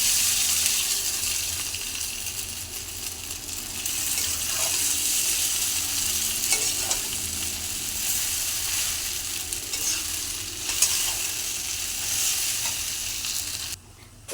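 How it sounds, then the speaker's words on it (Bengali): Chow mein is stir-fried in a wok with onion and green chilli, giving a steady, fairly quiet sizzle with occasional scraping and stirring clatters. "এবার চাউমিনটা দিয়ে দেব।"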